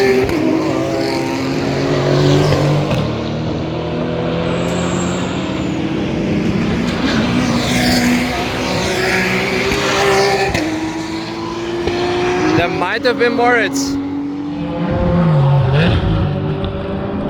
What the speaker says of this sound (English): Great sound on the 718 GT4.